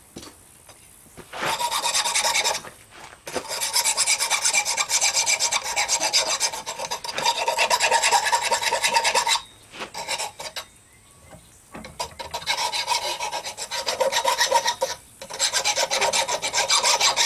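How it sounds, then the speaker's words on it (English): Loud, steady rasping as a homemade gar gig fishing spear is filed and ground smooth, coming in long bursts separated by short pauses, with no talking. "this allows me to grind it smooth"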